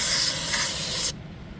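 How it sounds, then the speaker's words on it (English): A loud, steady hiss of aerosol cleaner sprayed into the crankcase base of a Predator 212 engine, running continuously for about a second before cutting off abruptly. "spray some more in that base and get that to wash out"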